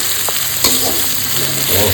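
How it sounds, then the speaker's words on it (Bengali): Crushed garlic and onion frying in a pan for a spicy river-fish curry, a steady close sizzle with stirring scrapes and a brief clack of a utensil. "রসুনটা দিয়ে দিলাম, দিয়ে একটু রসুন ভালো করে একটু ভেজে নেবো"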